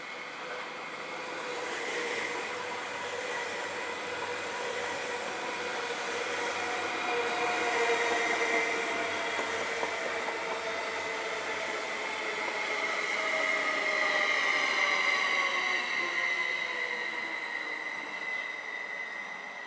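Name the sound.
SOB Südostbahn Stadler Flirt electric train arriving at Landquart station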